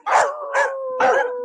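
German Shepherd dogs howling in three long drawn-out wails, each swelling and holding a steady tone before tapering, with the last howl sustained to the end; close and fairly loud, no talking.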